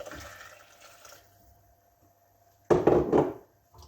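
Water poured from a container into a cooking pot for lentil soup, a faint trickle early on, then a loud, close gush of splashing liquid lasting about a second before tapering off.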